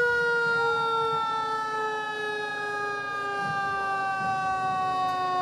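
A loud siren from a restored fire truck in a Christmas parade wails close by, its steady rising-and-falling tone dominating with little else audible.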